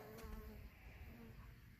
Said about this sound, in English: I've already got some bees curious about what I'm doing out here